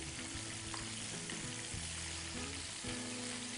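Crispy fillets fry in a pan over high heat, giving off a steady, dense sizzle with faint crackles. The sizzle runs without a break and sounds close and even, with no talk over it.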